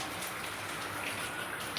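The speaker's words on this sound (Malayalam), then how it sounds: "മഴ നനയാൻ ഞങ്ങൾ പോയി." Sudden rain falls steadily, a soft, even wash of drops pattering on surfaces nearby, faint and unbroken throughout.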